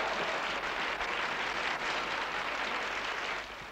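A crowd applauds a band, a broad, steady wash of clapping at moderate distance that holds level and then eases slightly near the end.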